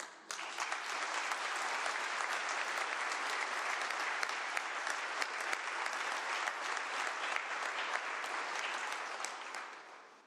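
A legislative chamber audience applauds at a governor's State of the State address, a steady, dense wash of clapping sustained for about ten seconds before tapering off.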